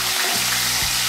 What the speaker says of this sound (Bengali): দিয়ে ডিমগুলোকে আমি ভেজে নেব